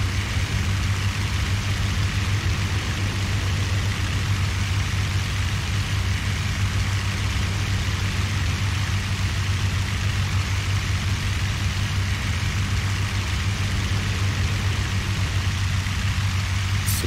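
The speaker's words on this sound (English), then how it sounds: "when you cut back the throttle, the engine gets really loud" A Hawker Hurricane aircraft engine drones in the IL-2 flight game, a loud, continuous low rumble that holds steady with no pauses and no talk over it.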